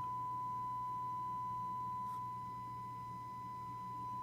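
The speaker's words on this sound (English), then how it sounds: "I can hear the 1 kilohertz tone." A steady 1 kHz test tone plays faintly through the speakers of an old RCA tube console amp, alone and unchanging over a low mains hum.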